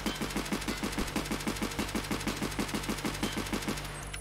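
Vepr 209 .366 TKM rifle firing on full auto in Escape From Tarkov, a steady rapid string of about twenty shots in even rhythm, fairly close, ending abruptly.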